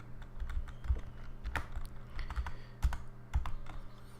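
Keys clattering on a computer keyboard as commands are typed, irregular clusters of close, crisp clicks with short pauses between bursts.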